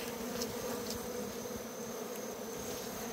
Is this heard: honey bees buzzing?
yes